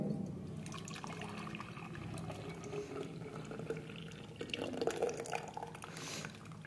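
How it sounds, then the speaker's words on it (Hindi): Orange sharbat pours into a jug as a soft, uneven liquid trickle and splash that runs steadily for several seconds and then swells louder toward the end, close by, with no talk. "अब इसको हम एक जग में निकाल लेंगे।"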